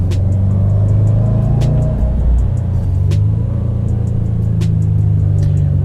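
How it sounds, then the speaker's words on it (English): A 2019 Subaru WRX STI revving hard, its deep engine roar rising and falling in a couple of strong pulls with sharp turbo whooshes and flutters on each lift-off, loud and close, no voices. "so the turbo, you hear more of that"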